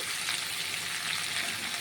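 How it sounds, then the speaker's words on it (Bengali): Green plantain pieces fry in hot oil seasoned with turmeric and salt, giving a steady, close sizzle that holds evenly through the short stretch with no voices. "কলাটাকে খুব ভালোভাবে ভেজে নেব।"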